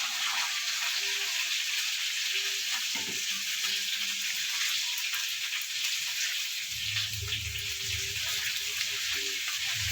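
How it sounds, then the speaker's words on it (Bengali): Water hits a spice mix in a hot pan with mustard oil, while cooking bhindi masala, raising a loud, continuous sizzle and hiss, joined near the end by a deeper bubbling rumble as the liquid boils. "একটু জল দেবো।"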